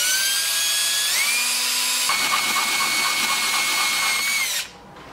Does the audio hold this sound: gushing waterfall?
no